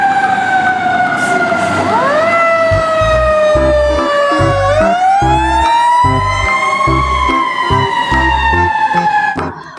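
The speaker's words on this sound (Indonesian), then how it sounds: "di sini ada mobil pemadam kebakaran" A toy fire engine sounds a loud electronic wailing siren that swoops up and down repeatedly over a pulsing beat, close and steady for nearly ten seconds.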